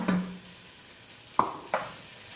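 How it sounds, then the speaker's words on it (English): A spoon presses and breaks up garlic cloves in a pot of white chicken chili, giving a soft scrape at the start and two sharper knocks against the pot near the end, quiet and close. "And just break the cloves up a little bit with the back of your spoon."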